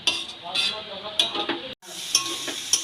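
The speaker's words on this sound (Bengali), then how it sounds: "জলটা যতক্ষণ না টানছে ততক্ষণ আমার এই শাক নাড়তেই হবে" Mixed leafy greens frying in a pan while their water cooks off, stirred with repeated scraping strokes and metallic clinks over a wet, crackling sizzle, with a brief pause midway.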